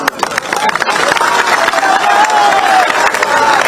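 A large crowd at an outdoor political election rally applauds and cheers in a loud, continuous roar. The noise stays near and steady, with a faint tonal whistle carried over it.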